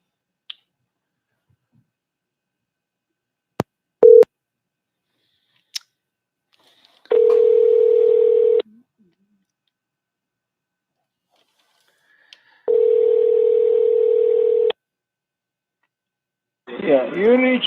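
Phone call placed through Google Voice, with sparse clicks, then two long steady ringback tones a few seconds apart and a burst of voice at the end as the line connects.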